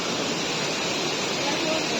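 A waterfall pours in a forest setting as a loud, steady broadband roar of rushing water, filling the whole moment without break.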